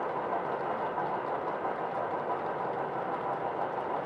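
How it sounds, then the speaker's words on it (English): Faint, steady rolling rumble of a model train running some distance from the microphone, a continuous low hum with soft clicking and no voices. "now that the train's running, like, can you guys hear the train okay?"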